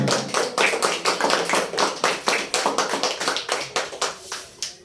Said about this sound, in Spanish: Aplauda sin temor